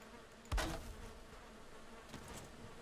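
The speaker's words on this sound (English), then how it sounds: "Bees." Faint insect-like buzzing of bees in the Valheim video game, with a soft thump and a brief louder rustle over a low steady ambient background, no speech.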